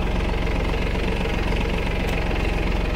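A Mahindra OJA 2130 tractor engine runs steadily while the tractor turns in a field, a close, even diesel chug with a rapid regular knock and no talking over it.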